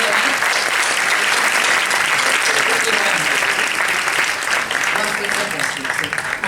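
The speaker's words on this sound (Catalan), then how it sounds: "Moltíssimes gràcies, un gran aplaudiment" Sustained applause from a sizable festival crowd for a municipal music school, steady and loud for the whole stretch with a slight easing toward the end.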